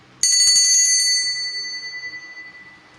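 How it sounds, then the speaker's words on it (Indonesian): A single bell strikes sharply and rings out, its bright metallic tone slowly fading over a couple of seconds. "Saya akan memulai dengan tanda lonceng berbunyi."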